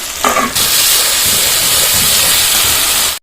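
Ground ginger, cumin and chili paste go into hot oil with chopped tomato and burst into a loud, continuous sizzle that cuts off abruptly at the end.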